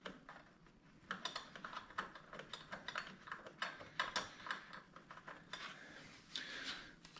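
A 13 mm socket ratchet snugging nuts on a John Deere 1025R or 2025R compact tractor, faint rapid clicking pawl strokes in short bursts, close by and quiet.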